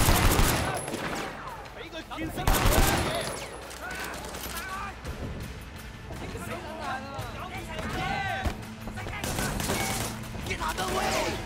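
Assault rifles crackle in a Sleeping Dogs docks shootout, repeated rapid bursts and single shots that rise and fall throughout, overlapping with someone talking.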